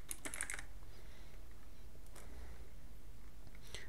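Close keys clatter briefly on a computer keyboard in a short burst, then after a quiet pause a couple more keystrokes tap near the end.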